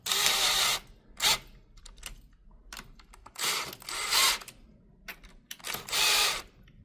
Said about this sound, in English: And then we'll come back with the tool and tighten everything down.